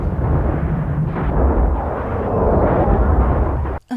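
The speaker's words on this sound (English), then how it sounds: "that's the airstrike that Lieutenant Dan called in" Airstrike explosions from the film Forrest Gump, a dense, continuous rumble of heavy blasts close and loud for several seconds, cutting off abruptly near the end.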